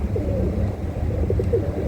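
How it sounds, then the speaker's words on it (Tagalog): A pigeon coos in soft, low repeated phrases near a loft aboard an offshore vessel, close by over a steady background rumble. "ito mga kalapatid, yung aking kalapati na pasaway"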